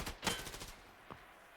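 Gunshots in a tactical shooter video game tournament match: a quick burst of several sharp reports close together, then one faint isolated shot after a short pause.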